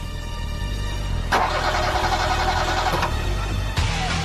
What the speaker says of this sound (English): Starved of oxygen, the vehicle's engines splutter and die.